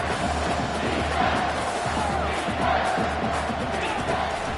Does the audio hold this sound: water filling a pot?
no